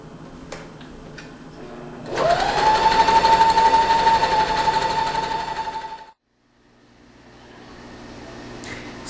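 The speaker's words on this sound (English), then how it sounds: "sew using a zigzag stitch, and always try and pull the fabric as much as possible while you're sewing." A sewing machine runs a zigzag stitch on knit fabric for a tutu, a steady whirring burst of about four seconds that stops abruptly, with quiet room sound before and after.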